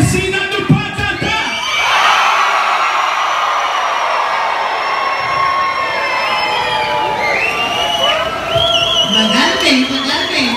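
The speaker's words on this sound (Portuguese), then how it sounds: "todo mundo vai gritar como se tivesse visto uma barata" A crowd of children at a Patati Patatá circus show shouts and screams loudly and continuously, a sustained roar of high-pitched cheering that rises after a brief pause, with an adult voice heard at the start and end.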